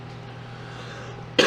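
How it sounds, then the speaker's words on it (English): A man clears his throat once in a short, sharp burst right at the end, after a stretch of low steady background hum. "clearing my throat"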